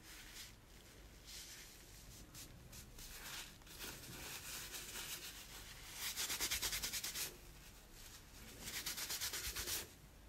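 Hard, steady rubbing to wipe a makeup swatch off the skin, close and raspy, with two louder, faster bursts of scrubbing near the end and no talk.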